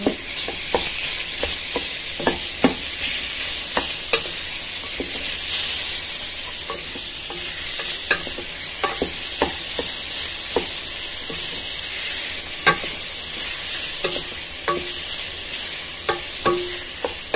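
Ground beef (giniling) for macaroni laham frying in a pan, a constant close hiss of sizzling fat punctuated by frequent sharp spatula taps and scrapes against the pan, with no talking.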